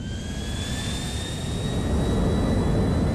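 The jet engine of an airplane in GTA 4 gives a steady, loud roar with a thin high whine running through it. The sound stays constant and grows slightly louder toward the end, with no talking.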